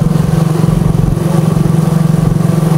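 A motorcycle engine runs near floodwater on a typhoon-hit road, its loud, steady mid-pitched drone pulsing evenly and close by with no voices.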